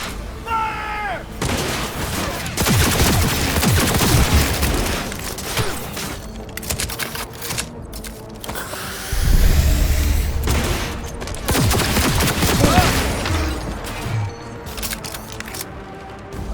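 Heavy sustained gunfire and explosions in a Cyberpunk 2077 battle, dense overlapping volleys with deep booms, loud and close throughout, with shouted voices mixed in.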